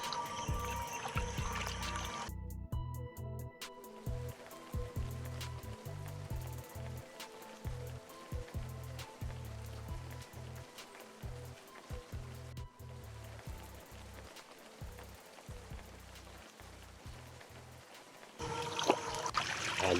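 Water drains and trickles at an outdoor spot where crabs are caught, with a steady nearby splashing flow and uneven gurgling bursts.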